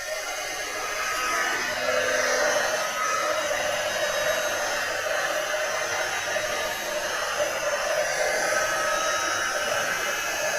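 A heat gun blows steadily and loudly while melting Wow embossing powder on a craft background, a continuous airy roar with no pauses.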